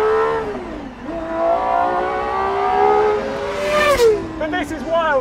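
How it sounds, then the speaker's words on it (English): GMA T.50 with a naturally aspirated, dry-sumped aluminium alloy V12 revs high and screaming, pitch climbing through gears with a quick drop and sharp blips near the end, heard close with a voice faintly underneath. "This is still a naturally aspirated, dry-sumped aluminium alloy V12, just like the S72 and the F1"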